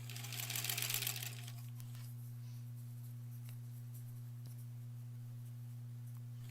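A home sewing machine stitches pieces together for a granny squares quilt border: a quiet, steady motor hum runs throughout, with a brief burst of brighter rattling near the start.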